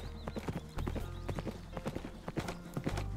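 Horse hooves clip-clopping in the Minecraft video game, a quick run of close, distinct hoof clops in an uneven trotting rhythm.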